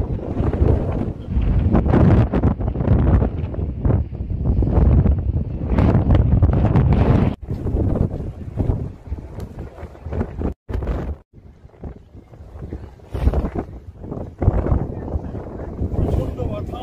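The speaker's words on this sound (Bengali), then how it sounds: "আমি শুনাই বাতাস কিছু, আপনার বাতাসের সহিত দেখেন বাতাস যা কিছুটা বোঝা যায়।" Strong wind blows on the Atlantic Ocean beach at Coney Island, buffeting the microphone with loud, continuous rumbling gusts that ease briefly near the middle before surging again.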